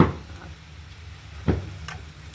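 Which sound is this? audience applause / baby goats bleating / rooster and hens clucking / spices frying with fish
spices frying with fish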